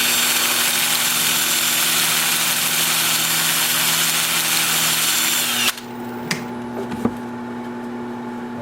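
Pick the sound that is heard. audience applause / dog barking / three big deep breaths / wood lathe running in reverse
wood lathe running in reverse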